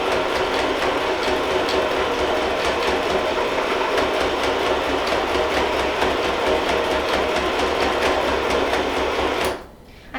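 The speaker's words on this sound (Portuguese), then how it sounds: "passa o ponto reto e retrocesso e ponto reto para deixar bem essa alça sustentada" A Lanmax sewing machine running a straight stitch and backstitch along a fabric tote bag strap, a fast steady mechanical clatter close by that stops abruptly near the end.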